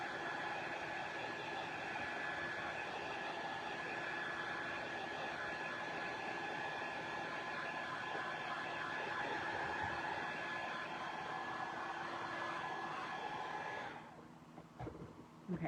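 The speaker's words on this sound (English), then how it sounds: "I'm going to dry this side right here because I keep touching it." A hair dryer blows on a DIY ornament with a steady, loud, continuous whooshing hum that cuts off near the end, followed by a few faint handling noises.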